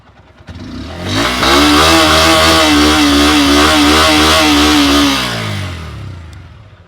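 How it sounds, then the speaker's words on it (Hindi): A Bajaj Pulsar N125 motorcycle engine revs up from idle, holds a high buzzing rev for several seconds, then drops back down. It is loud and close, with no talking. "अब सुन लेते हैं पल्सर की N125 का साउंड।"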